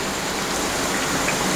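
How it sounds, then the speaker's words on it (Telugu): Heavy rain falling steadily outdoors during a days-long downpour, a dense continuous hiss of drops heard alone at moderate level. "ఒక పక్కన వర్షం, బయట జోరున వాన పడుతుంది అన్నమాట."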